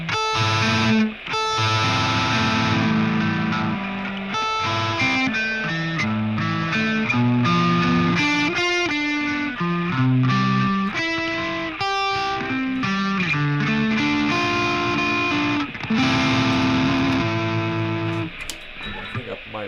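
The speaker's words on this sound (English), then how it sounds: "I think I might put a tiny bit too much distortion." Electric guitar chords strummed through heavy distortion, thick and sustained with a steady loud rhythm and brief pauses between phrases, playing alone with no voice.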